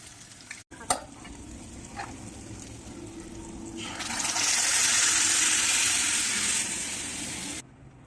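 Red chilli powder, turmeric and asafoetida sizzle and hiss with tomatoes in a hot pan, the sizzle swelling loud for a few seconds before easing off, with a few utensil clinks earlier.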